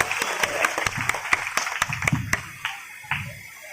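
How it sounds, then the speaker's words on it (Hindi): Sparse, uneven hand claps from a small gathering welcoming a health minister at a local event, a dozen or so distinct claps that thin out and stop. "एक बार जोरदार ताली बजाकर स्वागत"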